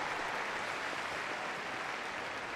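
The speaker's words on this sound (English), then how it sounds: "Give him a big round of applause." An audience claps in a dense, steady burst of applause filling the arena at Crufts, even in level throughout.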